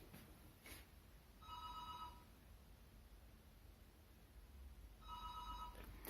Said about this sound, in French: C'est le téléphone fixe de la maison.